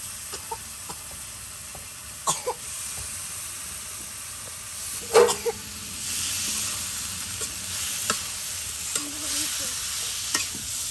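Spice masala for a village-style chicken bhuna curry sizzles steadily in a pan, with occasional clinks and scrapes of stirring and a few sharper knocks, close and unvoiced.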